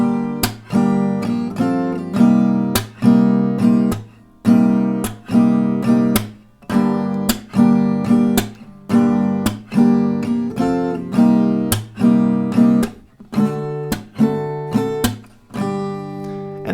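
An acoustic guitar plays the main strummed pattern of a song, loud and close, with steady rhythmic chords and sharp percussive accents repeating throughout, with no talking.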